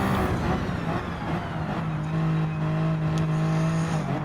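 The Toyota GR010 hybrid race car in Gran Turismo 7 at Le Mans holds a loud, sustained high-revving engine drone with steady tonal harmonics, close and continuous throughout.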